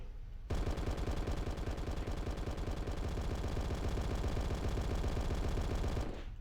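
Turrets in Halo MCC fire a rapid, unbroken stream of automatic shots for about six seconds, loud and close, starting and stopping abruptly with no talking.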